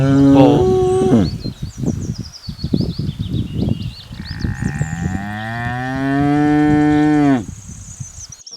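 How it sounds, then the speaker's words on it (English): A bull moos several times up close, with a few short grunting lows and then one long, loud drawn-out moo, while faint birdsong chirps in the background. "bull"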